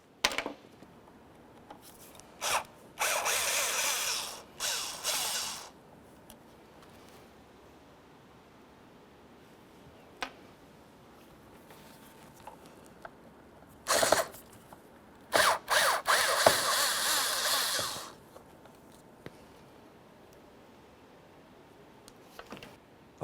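A power driver backs small Phillips-head screws out of the air filter box on a 2005-2010 Chevy Cobalt, with several short, loud whirring bursts of a few seconds each separated by quiet gaps and faint clicks.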